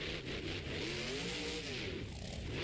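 A monster truck engine revving during a sky wheelie in an arena at a Monster Jam event, a continuous distant roar with rising and falling pitch, fairly faint and steady.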